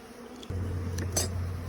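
Honeybees from a package being installed in a hive hum in a low, steady drone that starts abruptly and holds close and constant, with a couple of brief higher rustles on top.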